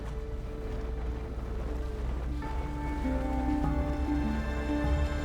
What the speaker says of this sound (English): You'll then hop on a speedboat and make your way to the Ballestas Islands.